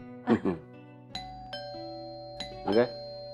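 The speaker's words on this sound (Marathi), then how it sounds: "बेल कोण वाजवतंय?" A two-tone electronic doorbell chimes twice in a home, each ding-dong ringing out clearly and decaying in a quiet room, with brief voices at the start and end.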